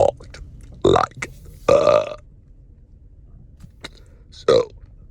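A man imitates speech made through burps, as done without vocal cords: three or four loud, croaking burped bursts separated by quiet pauses.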